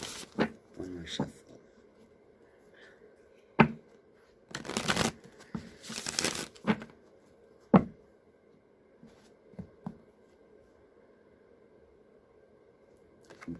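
Close tarot card shuffling comes in a few short riffling bursts with sharp taps between them, then quieter handling sounds trailing off.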